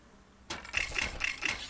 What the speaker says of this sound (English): it's clicking reroll and then just instantly selling both the items